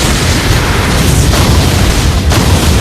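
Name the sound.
explosion effect of Beyblade special attack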